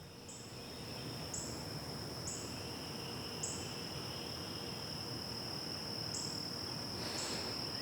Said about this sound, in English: listened to the bugs buzzing through the open windows of my truck